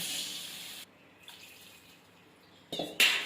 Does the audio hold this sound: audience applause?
no